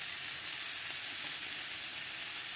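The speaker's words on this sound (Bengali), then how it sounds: "এটা কষিয়ে কষিয়ে কষিয়ে কষিয়ে পুরো লাল করে ফেলবে" Onions sautéing slowly in a pan over low heat until reddish brown, a steady soft sizzle throughout with faint stirring scrapes, no voices.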